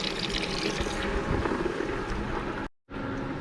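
Water rushes steadily through the hot-side hose as a pump flushes a tankless water heater during servicing: a constant close hiss that cuts out abruptly for a moment near the end before resuming.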